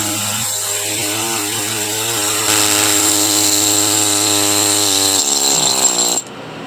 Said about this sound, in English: take the chisel tip on this air scribe, try to give that a little bit of flattening out